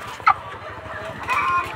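A laying hen on a poultry farm gives a short cluck, then a longer, softer clucking call, close by against low background noise.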